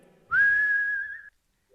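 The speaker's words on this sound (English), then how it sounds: "right now when I'm whistling, I have" A person whistles one steady, sustained note through an audio effect, loud and close, then stops abruptly into silence.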